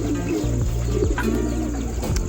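Pigeons coo close by in a soft, repeated rolling call, several low throaty phrases overlapping continuously with faint background noise.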